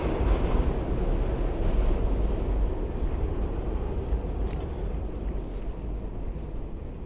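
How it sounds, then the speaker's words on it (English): A train rumbles along tracks right behind the backyards of houses in Brighton Beach, Brooklyn, a steady low roar with some wind buffeting the microphone, slowly easing off. "This is where the trains run, right behind the backyards of the houses."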